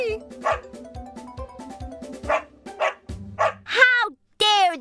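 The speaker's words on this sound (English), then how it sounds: "The dog ran out of the bag and barked very loudly at the fox." A dog barks loudly and repeatedly at a fox in an animated fairytale, with sharp yelping barks coming close together near the end after a stretch of narration and speech.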